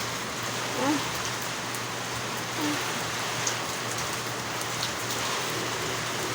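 Steady, dense rain pours down continuously, a broad hissing patter with a few faint background bumps and no clear voices.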